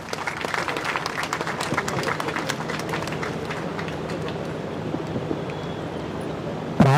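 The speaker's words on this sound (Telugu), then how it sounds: "మన ఛత్రపతి శివాజీ మహారాజ్ కమిటీ సభ్యులకు అందరికీ ఒకసారి గట్టిగా చప్పట్లు కొట్టాలి" Audience applause at a public gathering honouring a Chhatrapati Shivaji Maharaj committee: dense, sustained clapping from a crowd that holds steady for several seconds before a brief louder thump at the end.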